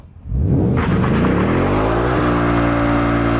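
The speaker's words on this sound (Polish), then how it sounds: "Ford Mustang ma coś o nazwie Line Lock, co trzyma hamulce przednie i jednocześnie zwalnia tylne, dzięki czemu możecie zrobić to." A Ford Mustang Mach 1 with line lock does a burnout, its V8 exploding from quiet into a loud, sustained roar with climbing revs that then hold high and steady, close and harsh with tire noise.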